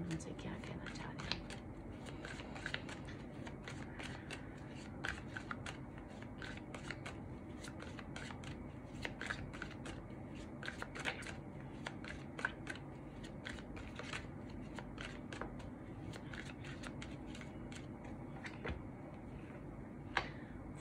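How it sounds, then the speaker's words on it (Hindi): Tarot cards being shuffled and drawn from the deck at close range, with soft repeated flicking and rustling running throughout while someone speaks quietly in Hindi. "पहले हम यहाँ से थोड़े से कार्ड्स ले लेते हैं"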